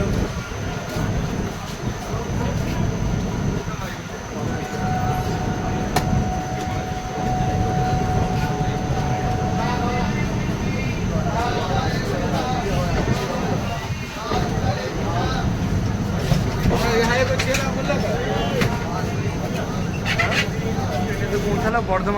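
Maa Tara Express rumbling into Bardhaman Junction, a steady loud rolling drone with clanks and rattles throughout, a faint tone sustained midway and voices murmuring over the noise.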